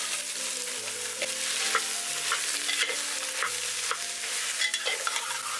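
Okara, the soybean pulp left over from making soy milk, stir-fried in hot oil with garlic, giving a steady close sizzle broken by repeated scraping and turning strokes of a spatula in the pan, with no talk.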